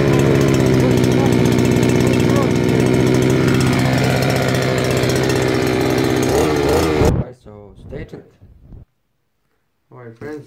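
Baikal 4200 petrol multifunctional lawn mower engine running loud and steady for about seven seconds, then cutting off abruptly, followed by a few brief knocks and handling sounds.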